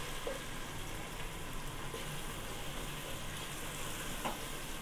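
Vegetables for fried rice stirred in a hot pan over high heat, a faint even sizzle with a few soft scrapes, no voices.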